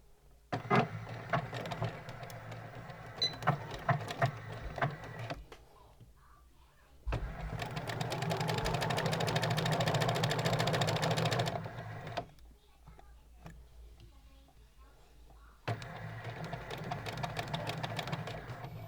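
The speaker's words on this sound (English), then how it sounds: "So I'm starting on the short edge and I'm sewing a 1 centimetre seam allowance." A domestic sewing machine stitches a 1 cm seam allowance along the short edge of a shirt collar, running in bursts with a long steady whir in the middle and brief pauses between, close and clear.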